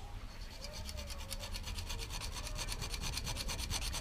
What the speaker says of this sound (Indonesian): kita guna kikir